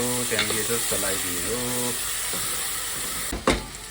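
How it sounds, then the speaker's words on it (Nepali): Tomatoes and turmeric are stirred as they fry in a pan, giving a steady sizzle and scraping. A voice with a held, sung-like tone runs over the first half, and a brief clatter sounds near the end. "टमाटो हालेर टर्मरिक हाल्ने, त्यहाँदेखि यसो चलाइदिने हो।"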